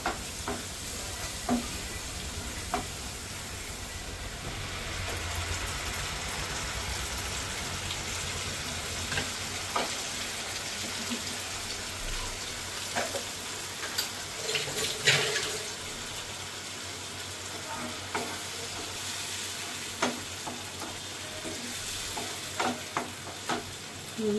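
Tomato paste sizzles in a pan while fried rice is being cooked, with a continuous soft frying hiss and intermittent stirring clinks and scrapes.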